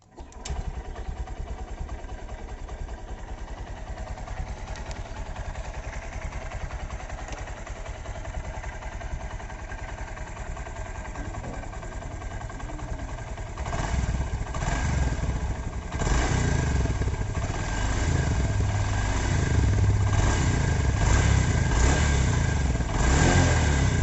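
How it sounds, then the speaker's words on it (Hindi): An SP125 motorcycle engine runs after an oil change, idling steadily up close and then revving louder in several rising bursts toward the end. "इंजन ऑयल चेंज करने के बाद एक बार इंजन का जो साउंड है वो भी एक बार चेक कर लेते हैं"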